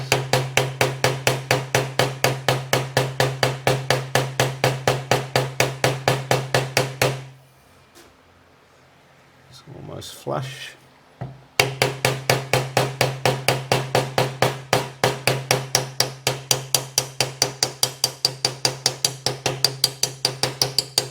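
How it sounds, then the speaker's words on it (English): Rapid, steady metallic tapping from a hammer seating a bearing into a 2017 KTM engine case, then a brief pause with a few spoken words before the quick tapping resumes. "then just tap it in with a hammer"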